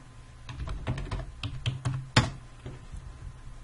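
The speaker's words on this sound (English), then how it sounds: "by typing this command" Keys clack on a computer keyboard as a terminal command is entered, a quick uneven run of close, crisp taps with one sharper strike near the end, no voices.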